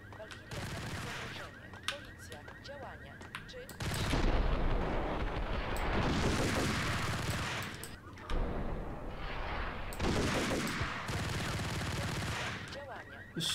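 Rapid bursts of gunfire from the game Max Payne, set in an underground parking garage, crackle and rattle in dense volleys, loud and continuous with brief lulls between long stretches of shooting.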